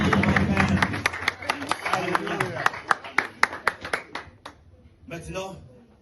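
Worshippers in a church congregation clap along in sharp bursts, a run of strong claps rising to a loud peak before trailing off, mixed with singing and talk.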